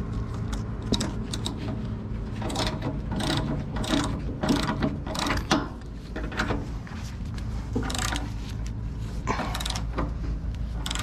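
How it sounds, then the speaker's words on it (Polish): A hand ratchet loosens two bolts on a combine harvester at harvest time, making close, rapid clicking strokes in uneven bursts with brief pauses and no talking. "Aha, czyli muszę te dwie śruby poluźnić."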